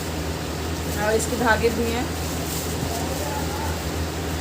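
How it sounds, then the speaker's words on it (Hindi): A running household air cooler gives a steady fan hum and broadband whoosh indoors, constant throughout, with someone talking over it. "कूलर चल रहा है"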